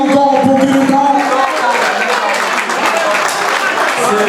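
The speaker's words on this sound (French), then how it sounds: "Est-ce qu'on peut applaudir encore pour Kiruka?" Loud, sustained applause from a large audience honoring Kiruka at a farewell tribute, with voices and cheering mixed in over the clapping.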